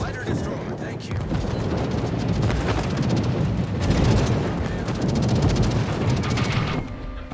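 Bombs burst during a naval video game battle in a dense, rumbling barrage of booms and gunfire, loud and sustained for several seconds before easing off.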